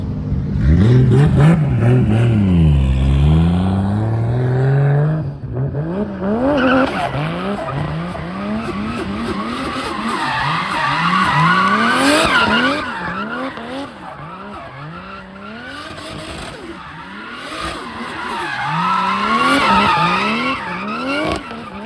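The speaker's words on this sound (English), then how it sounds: "I'm just gonna bust out a couple of donuts just to make sure the car is good" 2JZ-swapped Nissan S13 doing donuts, tires skidding and squealing continuously over a revving, rising and falling engine, loud and close throughout with no talking.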